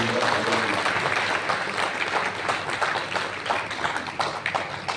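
Audience applause at a Hindi poetry gathering (kavi sammelan) in Siwan, a dense, steady wash of clapping from a large crowd that holds fairly even throughout before thinning slightly near the end.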